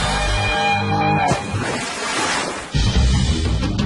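Big ocean surf roars and crashes at a beach where surfers ride large waves, a loud continuous wash with a new break surging in near the end.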